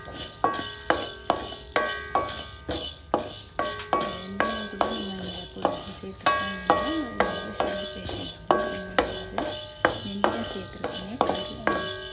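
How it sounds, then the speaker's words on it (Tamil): Flaxseed and spices dry-roasting in a pan, stirred with a utensil that knocks and clinks against the metal in a steady repeated rhythm, each stroke ringing briefly over a faint rustle of seeds. "இதையும் நல்லா வாசம் வர வரைக்கும் நல்லா வறுத்துக்கணும்"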